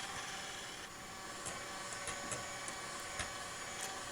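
An electric mixer whisking meringue with sugar: a continuous, fairly quiet motor whir with the whisks scraping and clicking faintly against the bowl a few times, no talking.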